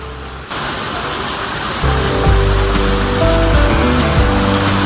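Steady rain pours down in a village, a constant hiss of drops that grows heavier partway through, with a low tonal hum running underneath.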